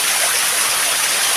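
Strong, fresh water rushing loudly near a cave entrance, a dense, constant roar of flow with no pauses, close and filling the whole moment.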